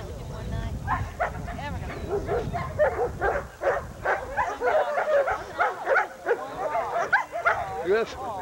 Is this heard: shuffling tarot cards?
no